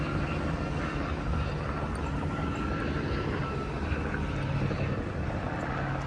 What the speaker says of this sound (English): It's an experimental twin engine.